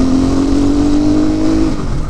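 A CrossX300x motorbike engine runs loud and close at a high, steady rev, with a sustained tone that drops slightly near the end.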